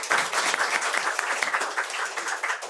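An audience at a book launch and talk applauds loudly and continuously, a close, dense wash of clapping with no pauses.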